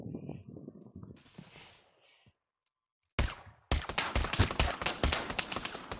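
Enemy gunfire in the VR shooter Pavlov Shack, with dense rapid bursts that start abruptly after a short silence and keep going, loud and close, over faint game sounds.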